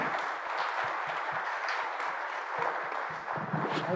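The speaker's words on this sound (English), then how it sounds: "please join me in giving our panelists a warm applause." Conference audience at a bioeconomy forum session claps for the panelists, a soft, steady patter of applause from a modest crowd, fairly distant and continuous.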